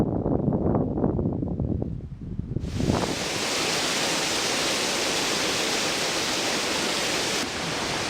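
A steady, roaring rush of falling water at Iron Creek Falls near Mount St. Helens fills the air, loud and unbroken after a few seconds of rustling handling noise at the start.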